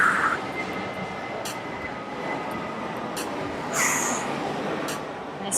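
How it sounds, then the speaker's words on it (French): Jet airplanes pass overhead outside a home during a workout, a steady broad roar that swells and fades in the distance with no talk. "Il y a vraiment beaucoup d'avions qui passent derrière."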